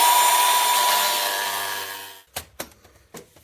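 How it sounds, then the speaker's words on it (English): An angle grinder cutting into the side skirt bodywork of an Aston Martin DB7 Vantage whines at high pitch and slowly winds down, then a few sharp knocks and taps follow nearby. "I'm going to go in with a grinder,"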